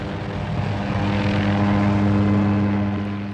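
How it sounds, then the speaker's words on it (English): A police helicopter flies over Naples, its steady droning rotor and engine roar holding at a constant, fairly loud level throughout without any voices. "The police helicopter in pursuit of cigarette smugglers with a grandstand view for Neapolitans."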